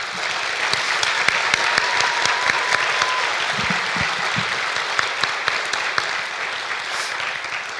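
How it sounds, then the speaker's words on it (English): Audience applauding staff at an early college graduation ceremony: dense, even clapping from a large crowd throughout, with a few sharper individual claps standing out. "Let's give them a big round of applause."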